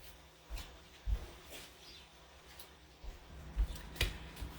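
Kale being cut on a cutting board for dehydrating: a handful of soft, sparse cuts spaced irregularly, quiet and close, with no talking.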